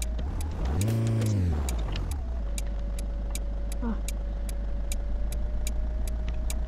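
Truck engine in Euro Truck Simulator 2 revs up loudly with rising then falling pitch before settling into a steady drone, with faint ticking clicks running above it.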